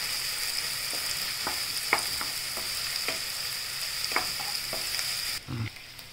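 Onion, green chilli, garlic and curry leaves frying in hot oil for a kohlrabi bhaji, giving a steady close sizzle with occasional sharp spatters and scraping stirs, and a brief thud near the end.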